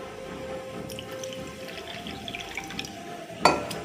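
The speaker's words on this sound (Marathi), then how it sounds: "आपण टाकूया पाणी याच्यामध्ये" A faint, steady trickle of water runs into a bowl of tamarind with a low background hum, ending in a brief louder splash.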